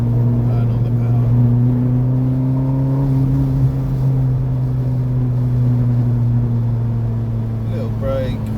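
A Ferrari California accelerating on the track at Castle Combe Circuit, its engine a steady loud droning hum heard from inside the car. Someone talks over the engine sound.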